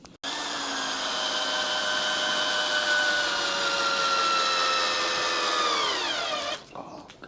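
Cordless drill whirring steadily for about six seconds at an allotment pigeon loft, a continuous motor whine that winds down in pitch as it stops, alone with no talk.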